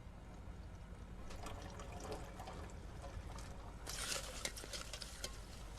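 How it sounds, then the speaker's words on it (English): Cold acetone is poured slowly into a container, giving a steady liquid trickle and splash that swells louder toward the end. "pour it in here."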